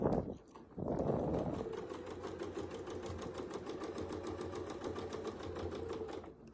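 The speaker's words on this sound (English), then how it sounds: "Now I'm going to sew into the center." A sewing machine stitches an embroidery design in a fast, even, rhythmic patter heard up close, after a brief pause at the start, with no voices.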